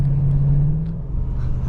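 A Holden VX SS ex-police car engine accelerating, a close, low, steady drone with a rising tonal hum that fades slightly toward the end, with no talk.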